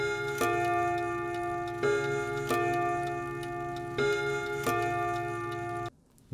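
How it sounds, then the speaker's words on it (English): An old mechanical clock, cleaned and restored, ticks steadily and close up, with a resonant chime-like ring sounding roughly every two seconds before cutting off near the end. "take an old clock, clean the mechanism, and in a matter of seconds they start ticking"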